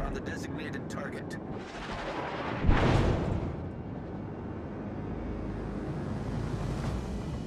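Naval gun salvo booms out from a warship in World of Warships: Legends, one heavy blast over a constant rumbling engine and sea drone, with faint game chatter nearby.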